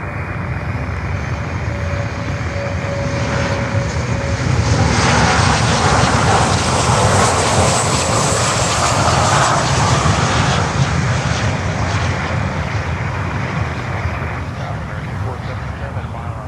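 A jet airliner passes overhead near Miami airport during an arrival rush, its loud engine roar swelling and slowly fading over many seconds, with a person talking beneath it.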